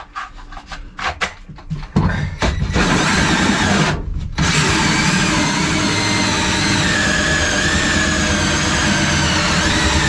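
Drilling through the false floor of a boat during installation of an Airmar B60 through-hull transducer: a few short bursts and pauses give way to a loud, continuous grinding drill run that carries on to the end.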